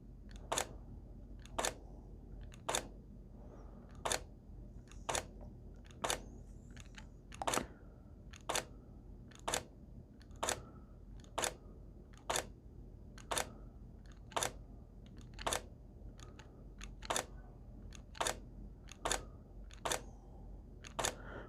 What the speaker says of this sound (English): I stop, and then I trigger the shutter